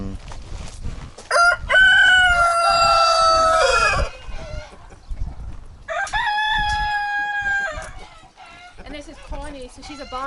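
Cockerels crowing loudly and close, two long drawn-out crows separated by a pause, with clucking and brief talk between.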